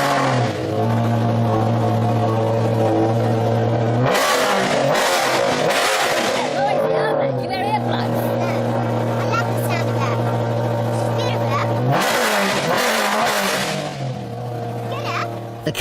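A stripped-out Maserati GranSport race car with a 4.2-litre V8 of 425 horsepower accelerates hard, its loud engine droning steadily and dropping at gear changes before climbing again, close and continuous throughout.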